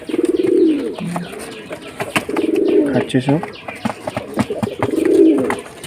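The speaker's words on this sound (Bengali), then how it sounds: "এখানে সব পায়রা" Pigeons coo in repeated low, throaty phrases close by, with a person speaking briefly between the calls.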